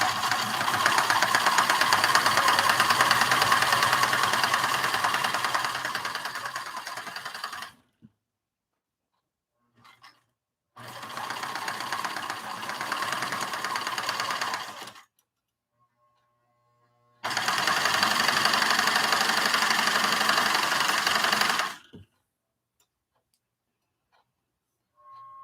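Sewing machine fitted with a denim needle stitching fabric pattern weights, running in three steady bursts with short quiet pauses between them, close and fairly loud.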